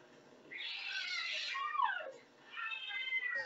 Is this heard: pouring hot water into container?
no